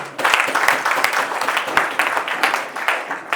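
An audience at a business leadership address breaks into loud applause: dense, steady clapping from many hands, close and continuous for a few seconds.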